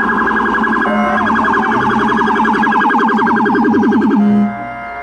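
A toy police car's warbling electronic siren loops rapidly and steadily for about four seconds, loud and close, then cuts off abruptly.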